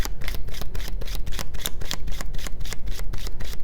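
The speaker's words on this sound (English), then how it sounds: "I just decided to shuffle again" Tarot cards being shuffled by hand, a fast run of crisp riffling flicks and slaps repeating in an even rhythm, close and fairly loud with no talking.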